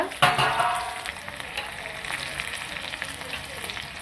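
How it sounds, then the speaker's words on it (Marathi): Ginger slices and four or five green chillies sautéing in hot oil for a Punjabi-style chole tadka, a sharp crackle at the start settling into a steady close sizzle with stirring. "थोडेसे आल्याचे काप टाकायचे आणि हिरव्या मिरच्या टाकायच्या चार पाच चांगलं परतून घ्यायचं"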